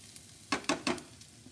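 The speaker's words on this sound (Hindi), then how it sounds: "ये देखिए हमारा आलू भी, सॉरी हमारा आलू का मसाला का जो ऑनियन है वो भुन गया है।" Chopped onions sizzling in a pan while frying for a potato masala, three distinct bursts of crackling sizzle as they are stirred, over a soft steady background hiss.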